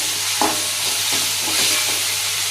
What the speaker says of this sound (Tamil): இப்போ நம்ம தேவையான அளவு இஞ்சி பூண்டு போட்டு